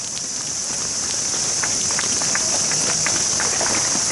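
Steady rain falls outdoors under the great torii gate of Yasukuni Shrine in Tokyo, a dense, continuous hiss of drops pattering on surfaces, loud and close throughout with no talking.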